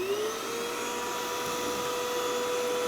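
A vacuum cleaner whines steadily with a rising pitch as it starts, cleaning the condenser coils of a Samsung refrigerator. It stays loud and constant, with no talk.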